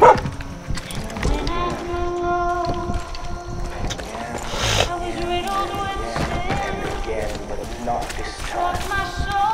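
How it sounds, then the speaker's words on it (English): A dog barks and yips in the Far Cry 5 video game, mixed into busy game sound with music and effects, while a person talks over the action throughout. "That pup's a fighter, I can tell."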